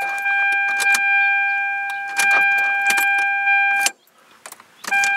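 A car fuel pump primes while the engine is being worked on with the intake off: a steady electric whine holds for about four seconds, then cuts off, with light clanks and rattles around it.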